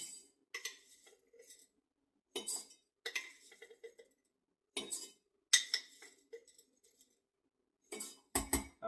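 Lentils spooned into a sterilized glass jar: a series of close scraping and clinking spoon strokes in separate bursts with short silences between, bright glassy ticks throughout.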